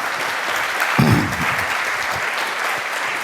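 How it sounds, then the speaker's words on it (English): Audience applauding at a hacker conference talk on power grid vulnerabilities, a steady sustained clapping from a crowd that swells briefly near the one-second mark, continuous through the clip. "give it up, an applause for Chris"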